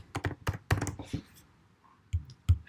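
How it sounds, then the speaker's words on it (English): Quick bursts of typing on a computer keyboard, close and fairly quiet, with irregular clusters of key taps separated by short pauses. "We edit file 4 and type something here."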